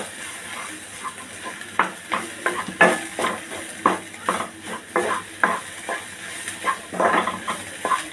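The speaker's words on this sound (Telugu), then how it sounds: "ఇది పచ్చివాసన పోయేదాకా వేయించాలి" Garlic chili powder fries with spiny gourd in a pan, a soft steady sizzle broken by repeated scraping stirs of a spatula at a loose, even rhythm, close and moderately loud.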